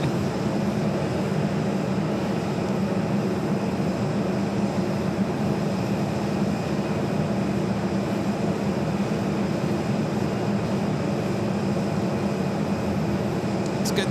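Broad, steady jet roar of an airliner taking off from the north side at Phoenix Sky Harbor airport, a constant wash of engine noise holding level from start to finish with no voices over it.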